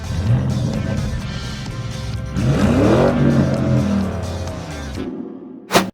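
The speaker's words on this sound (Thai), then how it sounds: "เสียงคำรามของเครื่องยนต์ทรงพลัง" A Porsche Cayenne GTS engine with sports exhaust roars and revs, rising in pitch through a hard acceleration, then cuts off, followed by a sharp bang.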